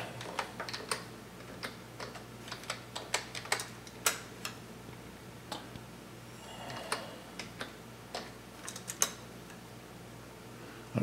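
Computer keyboard keys tapped in quick irregular clusters while a password is entered, crisp clicks close by over a quiet electrical hum, no one speaking.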